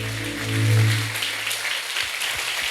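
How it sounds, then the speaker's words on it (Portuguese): A church congregation claps loudly for Jesus during a service, a dense burst of applause running throughout while a low sustained tone rises and fades beneath it. "E vamos aplaudir a Jesus bem forte"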